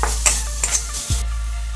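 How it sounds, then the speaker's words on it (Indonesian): Meat sautéed in a hot pan, a loud close sizzle with a few quick clinks of a utensil against the pan during a short burst of stirring, no one speaking. "kita masukkan daging. Kita tumis sampai masak"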